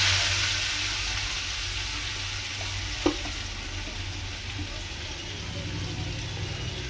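Finely chopped onion frying in hot oil with dried red chillies and a bay leaf for yogurt-cooked katla fish: a steady, even sizzle that runs the whole time, broken once by a brief utensil clink.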